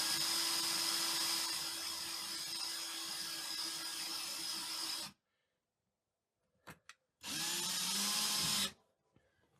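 Power drill driving a threaded self-drilling anchor into drywall to hang a roughly 20-pound mirror, a loud steady whine for about five seconds, a pause with faint clicks, then a second shorter burst of drilling.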